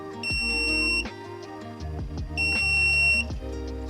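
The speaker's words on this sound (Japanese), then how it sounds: "こんな風にアクティブブザーは電圧をかけるだけで音が出ます。" An active buzzer wired to an Arduino's 5V pin sounds a shrill, steady electronic tone in two bursts of about a second each, separated by a brief pause, with faint clicks between.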